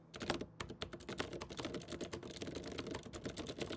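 Rapid, dense clicking and clacking of a mechanical keyboard with Cherry MX Green switches and metal keycaps, keys struck in quick irregular bursts, close and fairly loud.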